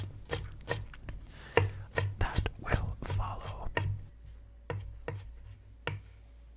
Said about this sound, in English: I am going to give the ginger a rough chop again to make some of the larger pieces hopefully a bit smaller